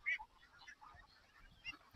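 Ducks on a commercial duck farm honk and quack in short, soft bursts, with a few calls standing out over a quiet background.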